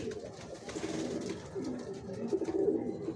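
Racer pigeons coo steadily in a loft, several birds overlapping in a continuous low, throaty murmur close to the listener, with soft rustling throughout.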